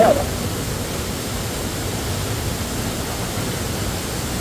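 Rain sprays and splashes near Kolung waterfall, an even, dense hiss of falling water that stays loud and unbroken from start to finish.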